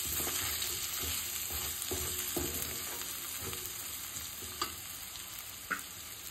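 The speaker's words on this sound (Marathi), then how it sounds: "थोडा परतून घेते तेलावरती।" Turmeric and homemade Koli masala sizzle in hot oil as they are sautéed for egg curry, a steady close-up fry hiss with scraping stirs and a couple of sharp clinks of the spoon against the pan.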